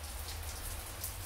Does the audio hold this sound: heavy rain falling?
yes